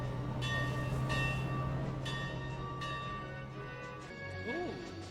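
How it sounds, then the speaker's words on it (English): Runaway Mine Train ride in the Virtual Towers video game: a steady rumbling train drone with bell-like tones and rising whistle sweeps near the end. "Sit back, hold on tight and enjoy the Runaway Mine Train."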